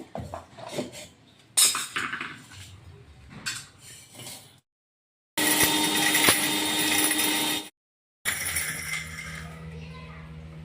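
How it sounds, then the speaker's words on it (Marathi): Whole spices, including star anise and black cardamom, warmed and then ground in a mixer grinder: a loud continuous whirring grind in two bursts with a short silence between, after rattling and clinking of the jar. "आता याला मिक्सरमध्ये बारीक करून घेणार आहे"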